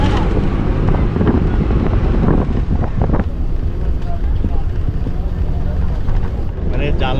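Steady, loud wind rushing through a moving bus, a constant roar with voices talking underneath.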